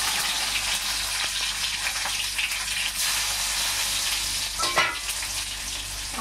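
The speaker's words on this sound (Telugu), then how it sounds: "ఆనియన్స్ కొంచెం ఫ్రై అవ్వాలి" Onions frying in a pan for a Nellore-style fish curry, a loud continuous sizzle with occasional stirring scrapes close by.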